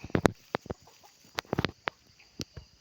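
Several chickens cluck nearby in short, sharp bursts, scattered irregularly against a quiet outdoor background with no one talking.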